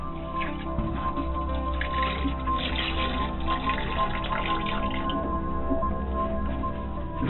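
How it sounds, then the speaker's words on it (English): Three gallons of RV marine minus-50 antifreeze pour through a sailboat's head into the holding tank during winterizing, a continuous wet gurgling and squishing with dripping water, close by and without talk. "we're going to put 3 gallons of antifreeze through the head and into the holding tank"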